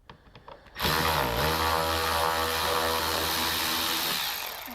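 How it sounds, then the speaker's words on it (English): A Milwaukee power driver whirs steadily while backing T20 Torx screws out of the front lip on a Porsche Cayman 987.2, loud and close after a brief quiet start, continuing without pause and easing slightly at the end. "Just taking off all these T20 Torx screws that hold this lip in place"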